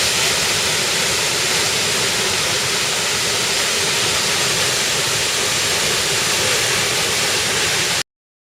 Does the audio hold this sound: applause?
no